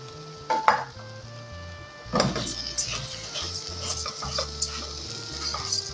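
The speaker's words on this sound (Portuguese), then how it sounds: "antes que doure o alho, eu vou colocar uma xícara de arroz" A cup of plain white rice tipped into a pan of garlic and oil, landing with a rattling scatter, then stirred with soft scrapes over a gentle sizzle and a faint background hum.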